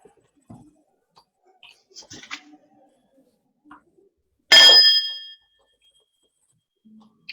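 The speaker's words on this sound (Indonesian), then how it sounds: "Mari kita jeda sebentar, dengarkan bel lagi." A meditation bell at a Buddhist monk's year-end reflection session is struck once, giving a bright, clear ring that decays over about a second in a quiet room, with only faint small noises around it.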